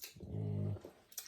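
A dog gives a short low growl, rising briefly and fading within about a second, fairly faint in a quiet room.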